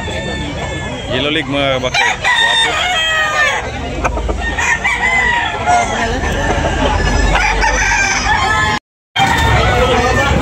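At a rooster sale in Tabunok, Talisay, Cebu, a handsome cock crows loudly and repeatedly across a noisy market scene while someone talks over it almost throughout.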